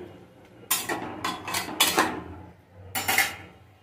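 Spoon stirring pineapple chutney in a pan, giving a few scraping, clattering strokes in short bursts with a pause before a final stir, close and fairly quiet.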